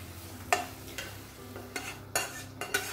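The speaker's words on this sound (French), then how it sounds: "Et je mélange avec ma cuillère en bois." A wooden spoon stirs zucchini spread over par-cooked dough in a home kitchen pan. It sounds like a few soft scraping strokes with light clicks, close up and fairly quiet, with a faint sizzle underneath.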